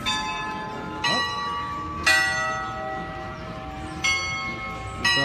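Bells chime at Pinocchio's in the Magic Kingdom, four distinct ringing strikes spaced about a second or two apart, each decaying slowly against soft outdoor park ambience.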